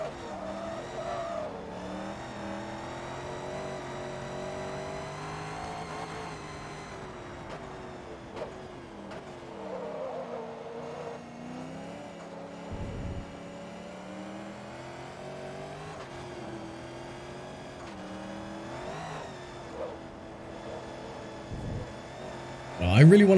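Corvette engine in the racing game Forza Motorsport 2, a steady sustained drone with rising and falling pitch as it revs and accelerates, with occasional tire squeal and a voice talking over it throughout.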